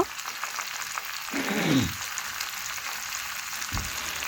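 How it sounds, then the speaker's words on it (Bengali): Butter melted over low heat simmers in a pan while being cooked down into ghee, a soft steady sizzle with one longer stirring swish and a short scrape later on. "মাখনটা একদম গলে গেছে এভাবে আমি দুই থেকে তিন মিনিট ভালোভাবে ফুটিয়ে নেব"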